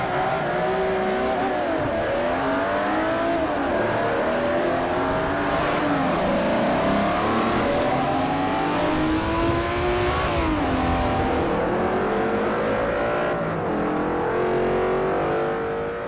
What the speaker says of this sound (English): you'll hear those differences of exhaust and engine changes.